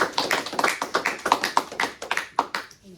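A church congregation claps their hands together, a burst of brisk, uneven applause close by for about three seconds before it trails off.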